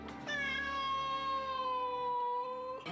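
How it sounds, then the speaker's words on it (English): A feral cat gives a single loud, drawn-out meow that holds steady for nearly three seconds, clear and close with no other sounds. "the phenomenon of feral cats."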